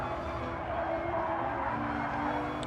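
Corvette race cars compete in Gran Turismo Sport, a steady engine drone mixed with tyre squeal and skidding, fairly faint and continuous, with no talk.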